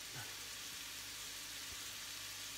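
Sweet potato and onions frying in a pan give off a faint, steady sizzle with a low hum underneath and no talking.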